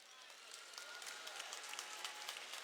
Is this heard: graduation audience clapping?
yes